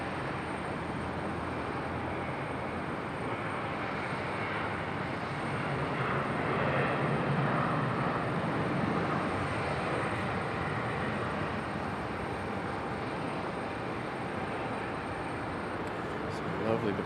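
A Southwest airliner departing Raleigh Durham airport, its engines producing a steady broad roar that swells slightly midway, heard from a distance with a person talking over it.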